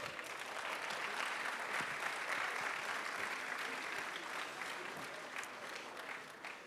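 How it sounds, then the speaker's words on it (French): A conference audience at a closing plenary session applauds the session hosts, a steady dense wash of clapping that holds loud and even throughout with no talk over it. "Vous pouvez les applaudir déjà."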